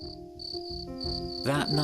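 Steady high-pitched cricket chirping repeats throughout, layered over soft background music and a brief burst of other animal-like calls near the end.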